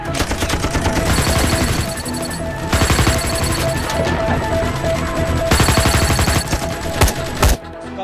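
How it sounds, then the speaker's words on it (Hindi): Dense, loud bursts of automatic gunfire and crashing impacts fill an action scene from a Shah Rukh Khan film, continuous with brief lulls and a heavy blast near the end. "हम तो फायरिंग कर रहे हैं सर।"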